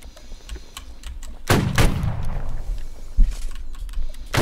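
Musket volley in a line-infantry video game: a loud burst of several near-simultaneous shots, then a single later crack, with distant gunfire and game ambience underneath.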